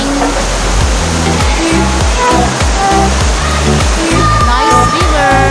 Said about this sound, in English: Nice river.